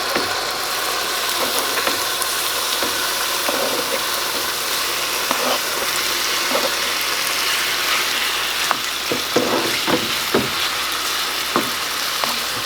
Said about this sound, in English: go ahead and just add the chicken